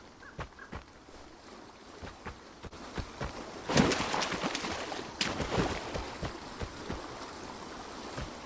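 A river flows steadily in the video game Vigor, a quiet, continuous watery rush broken by scattered footstep-like clicks and splashes that swell briefly midway, with no talking.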